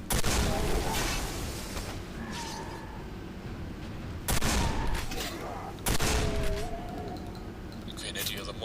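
Gunfire and grenade blasts in the Quake 4 video game, a dense volley of shots with several loud booming explosions standing out, mixed with game voices.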